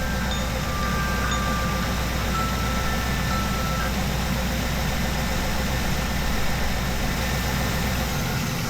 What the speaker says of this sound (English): And I really hope you can hear me above the engine.